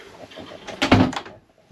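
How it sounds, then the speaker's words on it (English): A single door on a Fairline Phantom 37 motor yacht swings shut with a solid thud near the middle, close by, followed by quiet. "and close that door"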